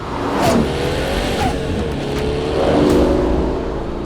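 A Utopia Roadster supercar with a three-pedal seven-speed manual gearbox revs its engine, swelling at about half a second and again near three seconds over a steady, fairly loud drone, with no voices.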